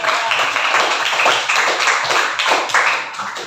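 A classroom group claps together, dense fast hand claps in uneven bursts, close and loud throughout.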